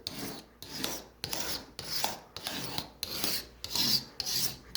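Pocket knife blade scraped lightly along the oxidized center rail of a Marx model train track, a close dry rasping in steady strokes, about eight passes with brief pauses between.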